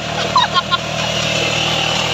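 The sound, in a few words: motorcycle being ridden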